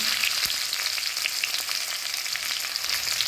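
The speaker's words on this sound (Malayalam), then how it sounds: "കടുക് വെട്ടുമ്പോൾ ചെറിയ ഉള്ളി ചേർത്ത് കൊടുക്കുന്നുണ്ട്." Shallots tossed into oil with spluttering mustard seeds give a fairly quiet, dense frying crackle with scattered pops that runs steadily throughout, no one speaking.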